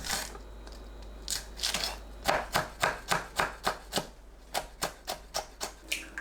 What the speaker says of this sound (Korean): 청양고추, 홍고추를 작게 썰어줍니다.